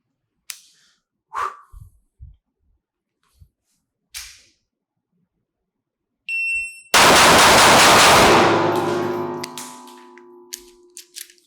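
Six rapid shots from a compact .380 pistol loaded with Federal ammunition during a shot-timer transition drill, sharp loud reports with ringing decay, preceded by a timer beep and a few faint clicks and handling noises.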